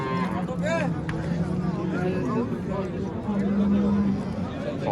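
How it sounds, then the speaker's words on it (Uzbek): Cattle low and moo amid the steady bustle of a busy livestock bazaar selling Holstein cows, with crowd chatter and voices running throughout and several drawn-out bovine calls rising over the din. "Barter bo'lgan sigirimiz."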